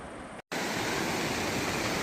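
A cascade of water tumbling beside a mountain trail, a dense, steady rushing roar heard close up, broken by a brief moment of silence near the start before the constant wash resumes.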